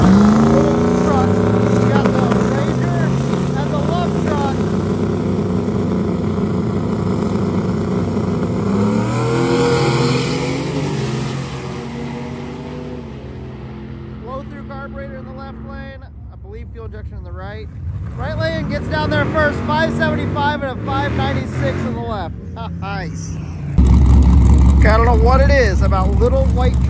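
Loud turbocharged V8 engines in drag cars roar and rev in sequence, rising in pitch as they accelerate hard down the strip, ending with a sudden heavy blast of engine noise.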